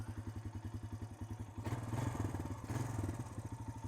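A Honda Rancher 350 ATV engine putters at a quick, steady idle, briefly revving a little louder twice before settling back to its rhythmic chug.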